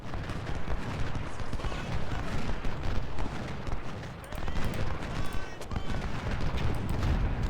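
Civil War troops and guns fire in the strategy video game Ultimate General: Civil War, a dense, steady rattle of musketry and distant booms rolling continuously under battle ambience.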